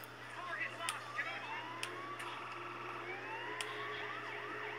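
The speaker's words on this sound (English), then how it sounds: "This is exactly the same siren from GTA 5." A police siren, likened to the one in the video game GTA 5, wails from a cop car outside, faint and distant with rising and falling sweeps repeating over a low steady hum.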